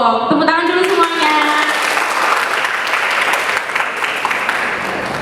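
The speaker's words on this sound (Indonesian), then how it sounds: "Tepuk tangan dulu semuanya." Audience clapping at a campus talk show, a full, continuous burst of applause filling the room, with a short voice heard at the very start before the clapping takes over.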